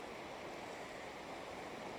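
Sea water washes over rocks on the shore as a soft, continuous rushing wash. It is faint and steady, with no breaks.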